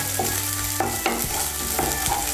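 Ginger and garlic paste stirred into hot frying oil, with repeated scraping strokes of a spatula against the pan over a constant loud sizzle close up.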